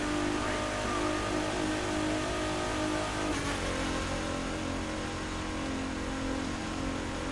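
A car engine revving steadily in fifth gear while racing in The Crew 2, a loud continuous mid-pitched drone with a slight surge around the middle, no talk over it.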